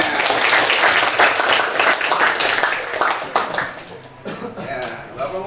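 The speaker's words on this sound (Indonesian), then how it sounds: "Tepuk tangan semuanya." A class of students claps together in a lively burst of hands, loud and dense at first, then thinning into scattered claps as voices chatter over the room.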